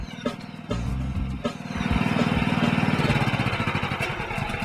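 A portable standby generator engine runs steadily close by with a chugging, slightly uneven mechanical drone, starting with a few knocks before settling into a continuous hum.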